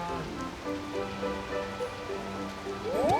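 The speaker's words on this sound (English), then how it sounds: "and it's raining" Rain falls in the Harvest Moon: Animal Parade video game as a soft, steady patter under faint background game music, fairly quiet and continuous with no talking.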